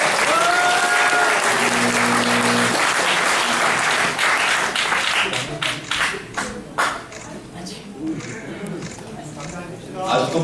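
Audience applause at a public debate forum on election fraud at the Korea Press Center, a dense, steady wash of clapping from a large crowd that holds for most of the stretch and thins toward the end, with a voice speaking over it.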